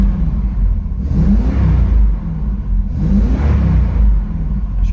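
A Triumph Stag idling in park, its engine giving a steady, loud, close rumble that swells and eases in gentle waves, with no talk over it.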